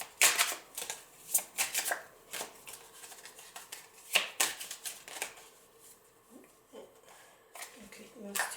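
Tarot cards pile shuffled up close in ASMR style, crisp papery riffles and slaps coming in bursts with short pauses between them.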